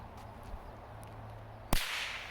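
A thrown snap pop popper bursts with one sharp, loud crack near the end, followed by a brief hiss, after a quiet stretch of low background hum outdoors.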